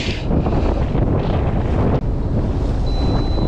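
Strong wind roars steadily outdoors during winter fishing, buffeting the microphone with a loud continuous rush and a brief dip near the two-second mark.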